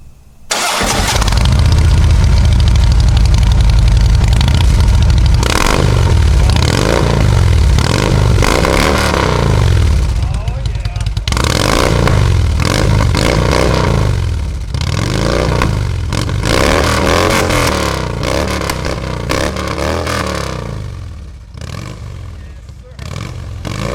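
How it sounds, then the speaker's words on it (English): A Harley motorcycle fitted with a Rinehart exhaust and DBX baffles cranks over, catches and settles into a deep lumpy idle. It then revs hard in repeated rising and falling blips, loud and close. "So we're going to fire it up now, see what these DBX baffles sound like"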